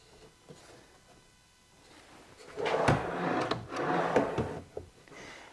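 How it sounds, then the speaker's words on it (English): A wooden drawer, newly installed and being test-fitted, slides out and back with a low rumbling glide ending in soft knocks, close and fairly loud, with no talking. "Pull the drawer all the way out. It slides nicely."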